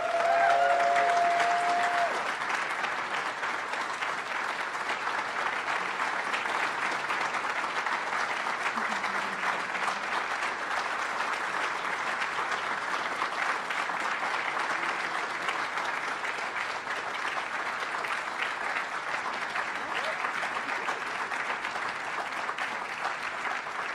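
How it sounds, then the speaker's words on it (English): Sustained applause from a conference audience at a Perl talk, honoring Ricardo Signes, steady dense clapping with a few cheers throughout, moderately loud and filling the room without pause. "Give him a clap."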